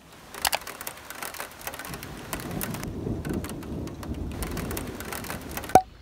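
Steady rain with rumbling thunder at a park during storms, a broad continuous wash of downpour with low rolls throughout and a sharp crack near the end.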